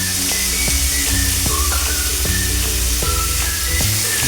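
Drumstick pieces and tomatoes frying together in a pan, a constant loud sizzle with bursts of crackle and steady spattering, no talk over it.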